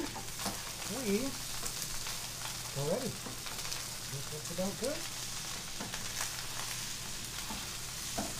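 Chicken fried rice with egg sizzles steadily in a hot pan, a continuous crackling hiss with faint clinks and scrapes of stirring scattered through it.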